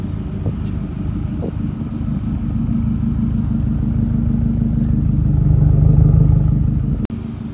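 A 2011 Subaru WRX with a freshly changed clutch drives along, its engine a loud, steady rumble that swells gradually as it pulls, then cuts off abruptly near the end.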